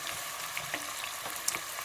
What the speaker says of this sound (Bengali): তেলের ভিতরে পেঁয়াজ দিয়ে নিলাম